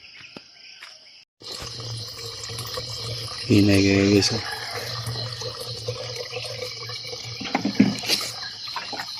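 Tap water runs steadily into containers during an early-morning water-fetching chore, a continuous hiss with louder splashing for a moment midway, under insect chirps and people talking.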